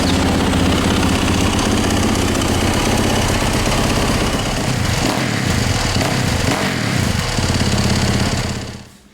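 A Yamaha YZ dirt bike engine, a 450 four-stroke, runs loud and close at a fast, rough idle. Its steady rattling drone carries on without a break until it cuts off at the end.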